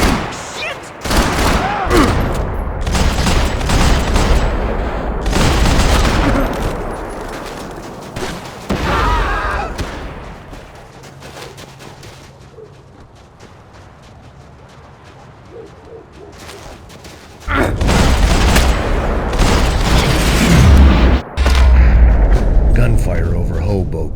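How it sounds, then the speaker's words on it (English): Gunfire crackles in Max Payne 3 during a fight over Hoboken, loud and dense in heavy bursts with a quieter pause in the middle. Voices talk over the shooting. "Gunfire over Hoboken."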